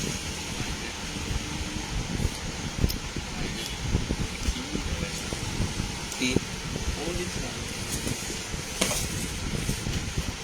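A small rechargeable trimmer with a red Type-C charging cable runs with a steady, buzzing motor hum that stays constant throughout, close to the microphone, while someone talks over it.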